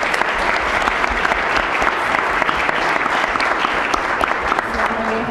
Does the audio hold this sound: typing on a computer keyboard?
no